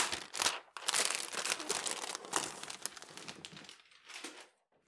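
Cellophane wrapping around a Logitech G915 TKL low-profile mechanical keyboard crinkles and crackles as it is unboxed, a close, busy run of rustling bursts that pauses briefly and then ends in quiet.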